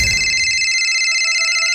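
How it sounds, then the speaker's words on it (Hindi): A telephone rings loudly and close, a steady electronic trill with no voices, lasting under two seconds. "आ गया, लगता है उसी का फोन है।"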